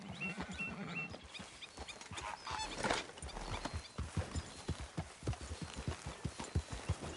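A horse's hooves clip-clop steadily in Red Dead Redemption 2. The rhythmic, close trot grows more distinct as it goes on, over soft ambient game sounds.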